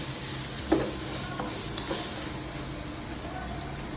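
Meat and onions frying in a pan, a soft steady sizzle with a few light clinks and stirring knocks, fairly quiet and close, no talking.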